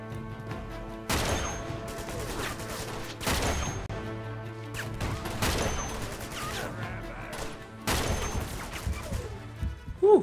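Sniper gunfire in the video game Uncharted 2: Among Thieves, with several loud single shots spaced a few seconds apart, each one ringing out over a steady droning game background.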